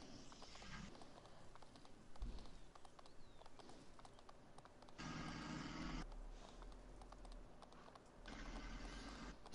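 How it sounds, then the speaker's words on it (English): Horse hooves clip-clop in Farming Simulator 19 on PS4, a steady run of hoof hits over a constant game background, with louder stretches coming in bursts. "See how good this horse's jumping is."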